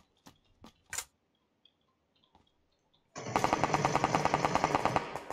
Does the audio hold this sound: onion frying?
no